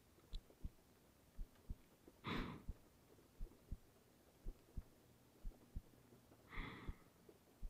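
A slow, steady heartbeat heard close up in a quiet room, soft low thumps in an even rhythm, interrupted twice by brief breathy rustles.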